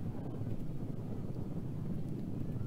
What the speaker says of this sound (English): Windy night here in Arlington.